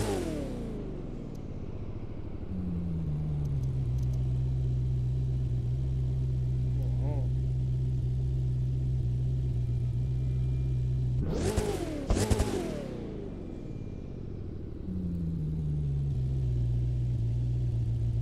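A car engine in The Crew 2, a race-built machine, cranking to life and settling into a steady idle rumble, then revving sharply twice before dropping back to idle, with a voice talking over it.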